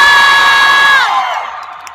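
A huge Filipino concert crowd at an outdoor night show in Riyadh shouts and cheers in a loud, sustained roar that swells and then fades away.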